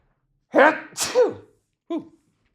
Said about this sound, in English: Hang on, I'm about to sneeze.